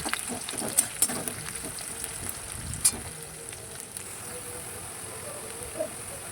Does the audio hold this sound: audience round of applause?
no